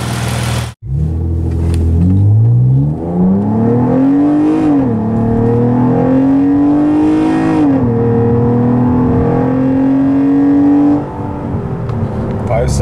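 Modified Chrysler 200 SRT6 accelerating hard on a 0-60 run, the engine note climbing through rising revs with a shift dip before rising again, loud and close from inside the cabin.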